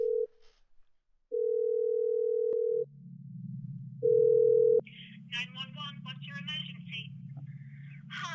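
A telephone line in a video game's 911 call, steady dial-tone beeps in separate bursts, then a low hum under talking voices.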